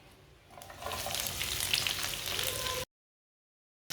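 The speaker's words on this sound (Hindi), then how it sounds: "कटी हुई सब्ज़ मिर्चें डालेंगे।" Chopped green chillies hit a pan and start frying, a soft sizzle jumping to a steady hiss that runs for about two seconds before cutting abruptly to silence.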